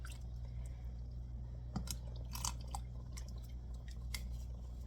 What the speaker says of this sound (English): make a pool of water over the yarn, if you will